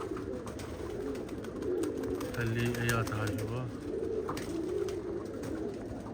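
Pigeons coo in low, rolling bursts close by, repeating over a steady background hum while someone speaks briefly.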